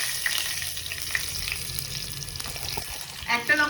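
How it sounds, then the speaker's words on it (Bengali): Potatoes with cumin and a chili frying in hot oil give a steady, close sizzle with stirring scrapes, and a few louder bursts of crackle near the end. "আলু জিরে দিয়ে দেবো একটা লঙ্কা।"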